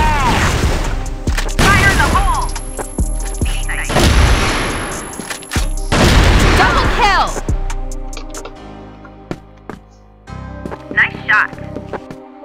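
Bursts of rapid gunfire in the video game CrossFire crack and boom in several quick volleys, with excited voices talking over them.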